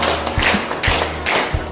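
Rhythmic hand claps in a counted clapping game at a Ramadan gathering, sharp, evenly spaced beats up close, with a leader's voice calling the count between them.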